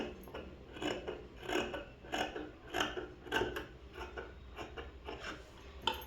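Scissors cut fabric for a school uniform sleeve in a quiet, steady run of soft, close snips and rasping slides, roughly one every half second.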